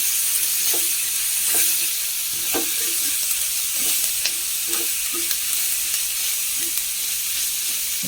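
Curry leaves frying in a pan for kadala masala, a loud continuous sizzle and hiss with scattered scraping stir sounds, close up and with no voices.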